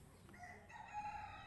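A rooster crows once on a farm in the Philippines, faint and somewhat distant, over quiet outdoor background noise.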